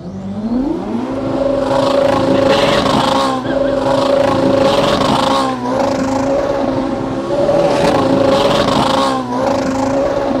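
A Ferrari accelerates and drifts with a child at the wheel. The engine revs rise and hold in repeated loud surges with tyre and wind noise, and no voices are heard.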